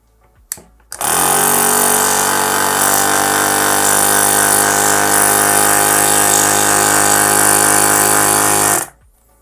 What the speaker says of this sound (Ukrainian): Зараз ми під'єднаємо компресор на 12 вольт через прикурювач і послухаємо, як він спрацьовує.